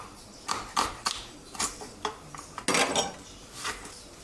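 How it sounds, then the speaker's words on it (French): Vegetables are sliced coarsely with a knife, about a dozen uneven taps and cuts close by against a board, with a brief cluster of quicker strokes near the end and no talking. "Allez, on émince grossièrement."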